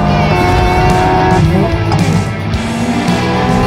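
A Hyundai N performance car drifts with its engine roaring loud and close and its tires squealing in long, sliding sweeps, with no voices over it.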